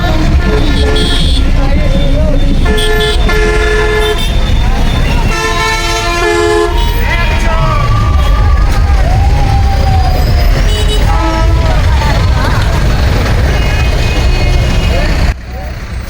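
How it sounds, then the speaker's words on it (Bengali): Busy traffic on the Bogura to Naogaon highway, loud and continuous, with repeated car horn toots and wailing sirens over a rumbling engine and road roar; a voice can be heard at times. "বন্ধুরা, এটি হচ্ছে বগুড়া টু নওগাঁ হাইওয়ে"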